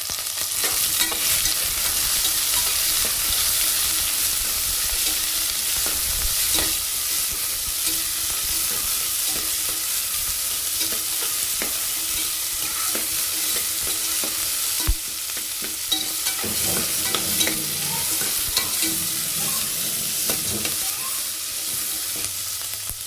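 Chana dal stirred and fried in a pan, with a steady close sizzle running throughout and repeated scraping stirs, uninterrupted by talk.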